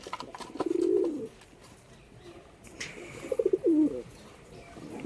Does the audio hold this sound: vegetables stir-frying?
no